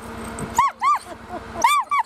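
Several dogs give short, high-pitched yips and whiny barks in quick bursts, close by, over the low engine hum of a tracked side-by-side vehicle.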